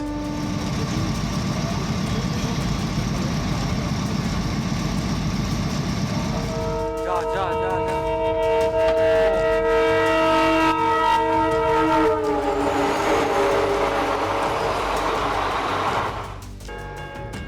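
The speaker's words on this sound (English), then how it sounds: "A train rumbles through the snowy forest. The train whistle warns the deer" A train rolls through a snowy forest with a low rumble, then sounds a long, loud multi-tone whistle in several sustained blasts that fade near the end.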